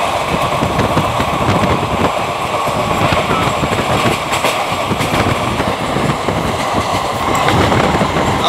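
Superfast express passenger train speeding past on the line out of Delhi toward Tughlakabad, a loud, continuous roar with rhythmic wheel clatter over rail joints, very close.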